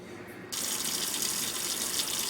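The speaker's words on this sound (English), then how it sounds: "get my tap water going strong and fill my thermos up with hot tap water" A hot water tap is turned on at half a second and runs strong into a thermos, a steady close rushing gush that continues without pause and with no talk.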